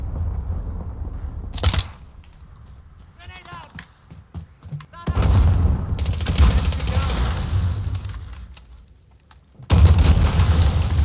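Cruise missile strikes explode in Call of Duty Modern Warfare on the Talsik Backlot map during hardcore team deathmatch, with heavy sustained rumbling blasts and crackle, alongside game voice announcements and a player talking.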